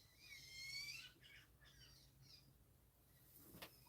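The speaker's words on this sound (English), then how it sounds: "Baby woodpeckers, they're getting really, really loud." High, raspy chittering calls from baby woodpeckers rise in a burst, then fade into scattered quieter squeaks, with a sharp knock at the end.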